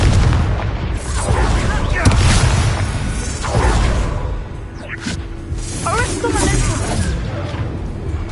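Spell blasts from Confringo in Hogwarts Legacy, a string of loud booming explosive bursts with whooshes, repeating through a busy battle mix while a voice talks over it.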